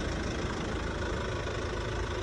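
Kia Carnival CRDI diesel engine idling on a cold winter day with a steady, close, even rumble and a faint knocking clatter, loud and uninterrupted with no talk.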